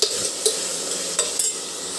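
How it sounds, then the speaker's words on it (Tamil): Tomatoes cooking in a pan with salt and turmeric, a steady close sizzle and frying hiss with a few scraping strokes of a spoon stirring through them, no voices over it. "மஞ்சத்தூள் கொஞ்சமாக போட்டு நல்லா கிளறி விட்டுக்கலாம்"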